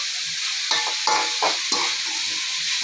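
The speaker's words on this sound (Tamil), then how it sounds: "இது லைட்டாக வதங்கட்டும். உப்பு போட்டு நல்லா வதங்கிட்டே இருக்கட்டும்." Onions with salt fry in a pan for egg noodles, a continuous close sizzle broken by several sharp scraping stirs of a spatula, with no voices.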